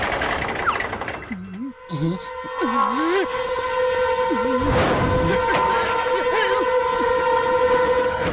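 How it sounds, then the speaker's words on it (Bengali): A cartoon train rumbles along a railway track with sustained whistle-like horn tones, and animated voices talk over it. "হাত ভাই, ওই ট্রেনটাকে থামিয়ে দাও।"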